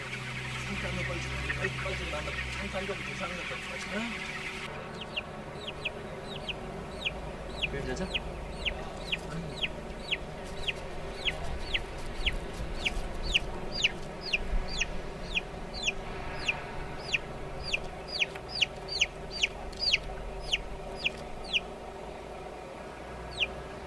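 Hens cluck and squawk in a crowded battery egg farm, a dense chorus of repeated clucks over a steady mechanical hum, close and continuous throughout.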